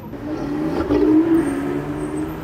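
Porsche 918 Spider supercar passing on a street in Monaco, a steady engine drone that swells as it goes by, heard amid busy traffic and city noise.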